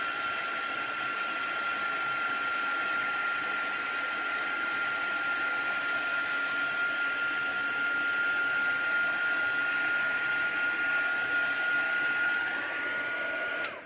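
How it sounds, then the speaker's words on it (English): Heat gun blowing hot air over alcohol ink on Yupo paper, a steady, loud, continuous whooshing roar with a faint high whine, running unbroken throughout with no talking. "I think I'm just going to give this a blast with the heat gun."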